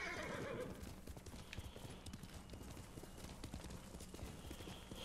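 Steady clip-clop of horse hooves runs throughout in the video game Ghost of Tsushima, with a horse whinnying near the start, all at a moderate, close distance.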